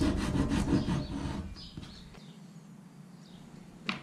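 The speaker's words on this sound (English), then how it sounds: "simply cut it out with my Ryoba saw" A Ryoba pull saw cuts through a half-inch wooden dowel plunger shaft in a close, dense rasping burst of strokes that fades out, followed by quiet with a faint tap near the end.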